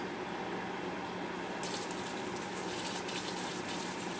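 Water runs steadily from a tap or hose to rinse a liner that is being cleaned, a constant close gush that grows slightly brighter partway through, with no talking.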